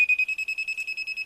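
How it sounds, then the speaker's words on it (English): Electronic beeper on an nRF24L01 radio device emitting a rapid string of about ten short, evenly spaced high-pitched beeps, moderately loud and alone. "It's beeping now. You can probably hear that."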